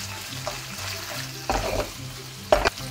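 Garlic, bacon and sausage fry in oil with a soft steady sizzle, broken by two louder bursts of crackle as the pan is stirred.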